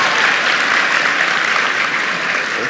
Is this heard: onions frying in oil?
no